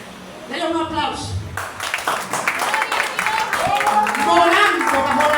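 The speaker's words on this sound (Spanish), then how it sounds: "Denle un aplauso." A church congregation breaks into applause about a second and a half in, and the clapping swells and continues under a loud voice that is singing or preaching.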